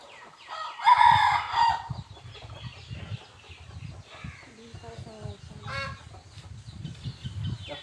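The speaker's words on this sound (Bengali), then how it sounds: "এত বড় মোরগ মামা" A big rooster lets out a loud crow early on, then clucks in short, repeated bursts nearby, with people talking quietly at times in between.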